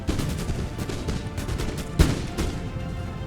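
Massed musket volleys crackle across an Empire: Total War battlefield, a dense, continuous rattle of distant shots with one sharper, heavier report near the middle.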